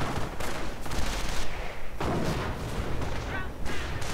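Hummel self-propelled artillery fires during a Company of Heroes battle, with dense booms and gunfire rumbling through continuous loud combat noise and several heavy impacts.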